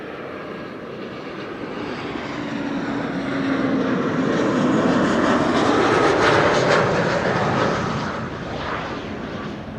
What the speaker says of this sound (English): our next arrival, an Umbrella 190 KLM City Hopper arriving from Genoa